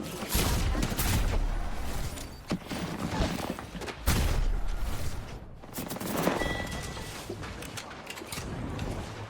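Rapid bursts of gunfire from the Apex Legends video game crackle in dense volleys with brief pauses, loud and continuous across the stretch, with a voice speaking faintly underneath.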